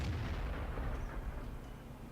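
A tank cannon booms in World of Tanks, a single heavy low blast with a long rumbling tail that fades across the next two seconds, alone with no talk.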